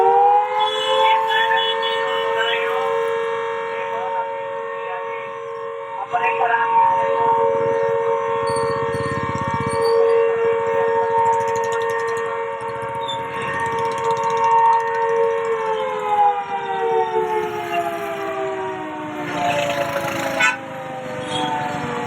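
Loud wailing blackout warning sirens during a civil defence drill in Punjab hold a steady droning tone for many seconds, then slowly fall in pitch, with faint background noise underneath.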